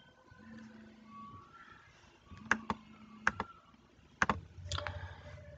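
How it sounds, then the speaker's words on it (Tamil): Keys on a computer keyboard clatter in short sharp bursts, a few isolated clicks and then a quick cluster, close to the microphone in a quiet room while a form is being filled in online. "அதை பார்த்து அப்படியே டைப் பண்ணிக்கிடுங்க"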